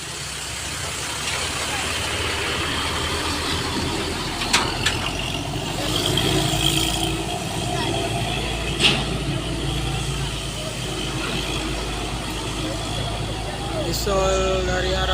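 A Mitsubishi L300 diesel pickup truck engine labours uphill as a steady, loud drone under road noise, with passing traffic and brief clunks from about 4 to 9 seconds.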